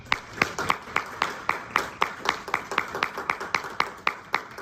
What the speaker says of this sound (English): So if anybody deserves a round of applause, give it back to my friend and business partner, my man, Mr. Ray Patterson.